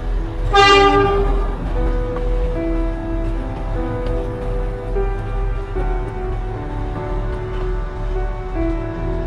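Matheran toy train horn sounds in one loud toot near the start, followed by steady rumbling and clattering of the narrow-gauge railway cars rolling along, with no talking.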